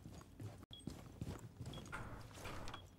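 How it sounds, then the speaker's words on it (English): Faint, scattered footsteps in a ranked online shooter match, several soft, uneven thuds close by with no talking over them. "Footsteps galore, dude, I don't know."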